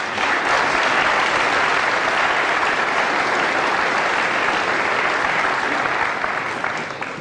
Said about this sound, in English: Well, the applause there as Alex finishes a little practice